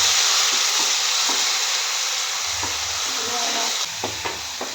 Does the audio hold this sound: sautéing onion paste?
yes